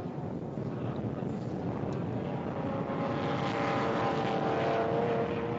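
A Porsche race car engine roars during a GTS class race at the 2010 NASA National Championships, a loud, steady drone with a gradual swell, heard from a distance and muddied by wind rumble.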